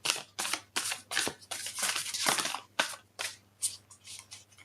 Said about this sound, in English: These cards are really big, so it is a little bit difficult to shuffle.